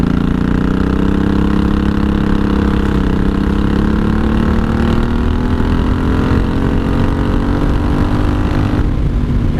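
A 1983 Honda Shadow VT750C motorcycle engine runs at wide open throttle in fourth gear, a loud, steady, close drone whose pitch climbs gradually as it pulls, with constant wind rush.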